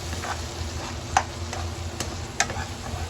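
A spice mix sautés in a pan with a steady, close sizzle and frying crackle, broken by a few sharp ticks of a spoon stirring against the metal.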